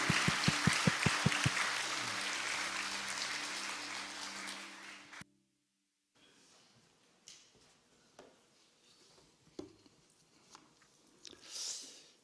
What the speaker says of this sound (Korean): 다시 한번 우리 최정민 성도님 격려와 축하의 박수 한번 드리십시오